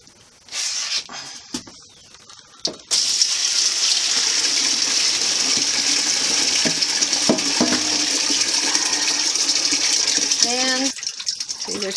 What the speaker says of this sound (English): Okay, I'm ready to strain the greens. They're well wilted. Strain them out of that water.